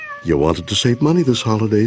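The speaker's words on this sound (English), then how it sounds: "That's the sound of your in-law's cat perched over your bed at 3 a.m." A cat yowls in a radio advert, a drawn-out whining meow with a voice speaking over and around it.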